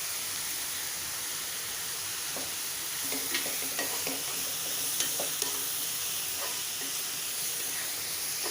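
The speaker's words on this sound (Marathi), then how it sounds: "कांदा छान परतून घ्यायचा आपल्याला।" Onion sautés with salt in a pan, giving a steady close sizzle and hiss with a few soft stirring scrapes and clicks partway through, no talk.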